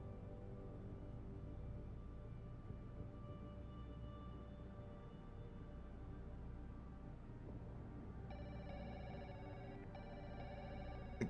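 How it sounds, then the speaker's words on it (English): An office desk phone rings in the video game Deus Ex: Human Revolution, a faint electronic trill that starts late and repeats in short bursts over a low steady background hum. "her phone just keeps ringing"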